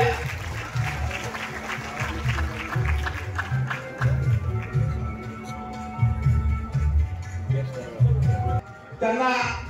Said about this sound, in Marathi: जोरदार टाळ्या वाजून या खेळाडूंचं स्वागत करूया.